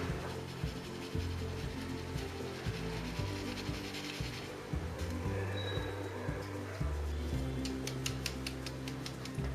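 A dry mix of plain flour, salt, baking powder, baking soda, coffee and cocoa is sieved, giving soft, quiet rubbing and rasping with light rhythmic taps of the sieve, close and alone.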